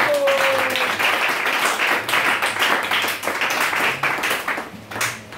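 Church congregation applauding and cheering for Jesus during a service, loud sustained clapping from many hands close by, with scattered shouts and voices blending into the applause.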